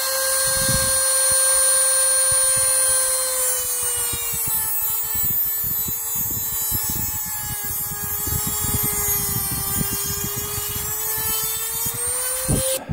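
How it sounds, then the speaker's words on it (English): A Dremel rotary tool with a cutoff wheel slices the end off a wooden tongue depressor, giving a loud, steady high-pitched whine with gritty cutting noise that holds close and continuous for the whole stretch. "I'll cut the end of this tongue depressor off,"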